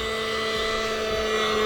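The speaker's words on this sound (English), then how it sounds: "That was a good flyby on the plane." RC model airplane flying by, a steady whining motor drone with a sustained buzzing tone that holds at an even, fairly close level throughout.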